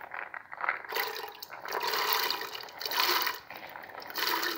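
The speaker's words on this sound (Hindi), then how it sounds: "पानी डालना है, चने डालने हैं।" Water pours and splashes into a pot of soaked chickpeas in a home kitchen, a close, uneven gushing stream that swells and eases in several waves.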